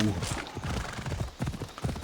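A horse in Assassin's Creed Odyssey video game gallops with rapid, muffled hoofbeats under a person's talking throughout the short stretch.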